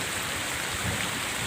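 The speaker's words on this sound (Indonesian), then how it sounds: "hujan selebat-lebatnya ya, hujan lebat ya, hujan selebat-lebatnya" Heavy rain pours down steadily in a village countryside, a dense, loud, continuous hiss of drops with no pauses, heard from shelter under a large tree.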